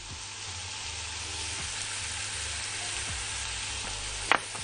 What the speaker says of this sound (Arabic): وعايزاه يتشوح لحد ما ياخد كده ايه اطرافه تبدا تاخد لون بني